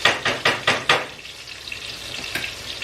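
Garlic sautéing in butter in a pan, a soft steady sizzle after a run of five quick rhythmic scraping or stirring strokes near the start, with a brief louder scrape near the end.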